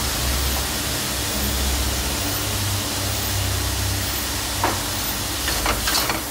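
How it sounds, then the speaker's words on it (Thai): Rice noodle rolls seasoned with light soy sauce, white pepper and sugar are stir-fried in a pan, giving a steady close hiss and sizzle. A few sharp spatula scrapes come near the end. "ผัดให้เข้ากันนะครับ"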